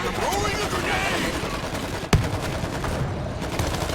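Bursts of rapid gunfire with one sharp, loud shot partway through, mixed with World War Z game noise and a voice talking.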